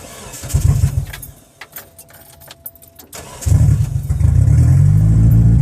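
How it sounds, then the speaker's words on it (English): A 2G DSM car engine cranks briefly, stalls into near quiet with some jingling and clicks, then cranks again and catches into a steady, loud idle. "We'll start the car back up"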